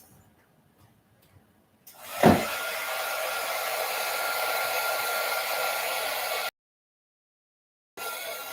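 A hair dryer or heat tool is used to dry a sheet of paper. It switches on abruptly as a loud, steady blowing roar, runs evenly for several seconds, cuts out and then starts again.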